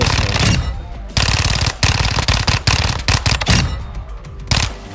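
Fennec 45 submachine gun fires in Modern Warfare 2: loud, near bursts of rapid automatic fire, a long sustained burst, then quick short volleys separated by brief pauses, with no voices.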